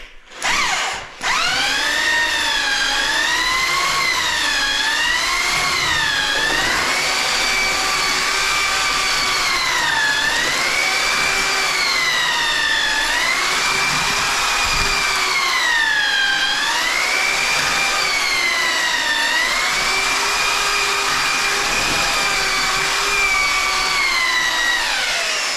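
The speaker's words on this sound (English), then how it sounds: "So hold off on just standing there and mixing it with your mixer." An electric mixer churns sand and cement for tiling, its motor whining steadily with a wavering pitch that rises and falls as the paddle works through the mix, loud and continuous for about 25 seconds.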